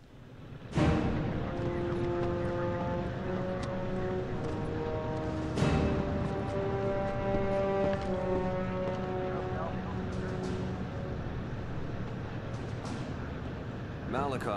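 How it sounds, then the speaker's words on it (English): Airplane taking off in the video game Resistance 2, a steady loud propeller engine drone with strong tonal harmonics that rises and holds, broken by a couple of sharp impacts, with voices talking over it. "Runway is clear. We are going for takeoff!"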